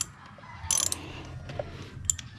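A ratchet wrench loosens the shock absorber bolts on a Yamaha Nmax 155 scooter, making quick close clicking bursts over a quiet background.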